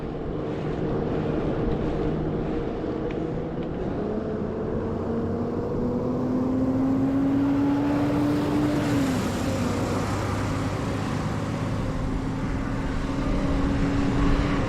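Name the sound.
truck passing the bicycle from behind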